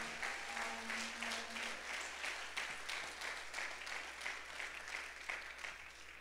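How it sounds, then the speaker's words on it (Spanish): A church congregation claps together in a steady, sustained round of applause, fairly soft and even across the room, with a faint voice briefly at the start. "Dele una ofrenda de palmas al Rey."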